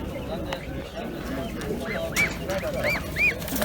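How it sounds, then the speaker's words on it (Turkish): Several honking goose calls from large geese at a poultry market ring out over a busy background of chatter and crowd noise, the loudest few coming near the end. "Yine burada büyük kazlar var"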